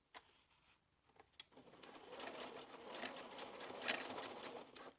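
A sewing machine starts up after a few soft clicks and then stitches steadily at close range, a fast mechanical whir.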